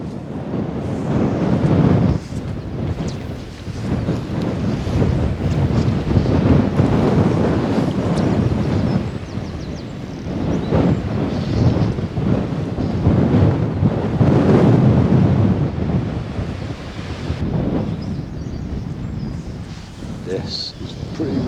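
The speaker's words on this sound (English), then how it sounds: "This is pretty windy down here." Strong wind buffeting the microphone by the water during fly fishing, a loud continuous roar with gusty swells throughout.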